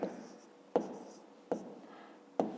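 Hand writing on paper during a fifth-grade arithmetic exercise: a steady close scratch of strokes, broken by three sharp taps or pen landings spaced under a second apart.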